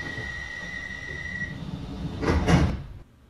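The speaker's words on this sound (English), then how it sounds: "We just closed our doors." Sliding doors on a Bakerloo Line train closing in a train simulator game, a brief rushing slide that peaks and then cuts to near silence, following a steady electrical hum and tone.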